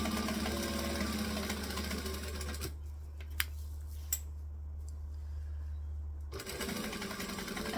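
A sewing machine stitches lines through a quilted oven mitt, running in a loud steady whir, stopping for a few seconds with a couple of small clicks, then starting up again close by.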